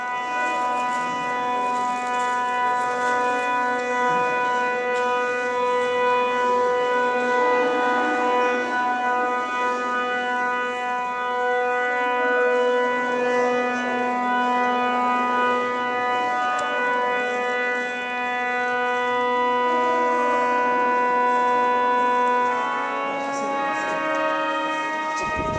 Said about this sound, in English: Today they are doing organ tuning though